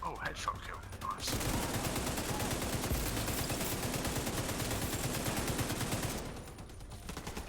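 Dense, sustained gunfire from the shooter video game Tom Clancy's The Division 2, a loud continuous burst of rapid shots lasting several seconds, with a few faint sounds before it and a quieter tail after.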